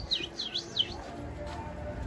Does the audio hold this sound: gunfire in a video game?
no